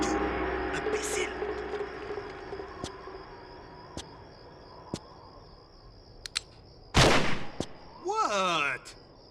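Gunfire in the Streets of Rome level of the video game Tomb Raider Chronicles: several sharp isolated shots spaced across a quiet background, then a loud burst near the end, with character voices speaking around them.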